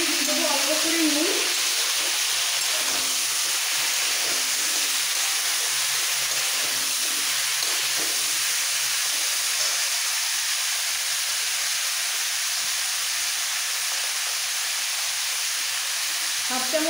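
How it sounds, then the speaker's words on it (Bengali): Chopped vegetables fry in hot oil in a pan while cooking khichuri, a loud, steady sizzle that continues for the whole stretch with occasional stirring. "তেলের মধ্যে একটু নাড়াচাড়া দিয়ে দেবো অল্প করে নুন।"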